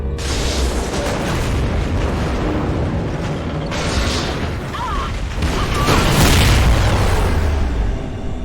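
Space station detonation in the Call of Duty Ghosts video game, a mix of mechanical clanks and deep rumbling booms that swell louder toward the end, with voices speaking over it.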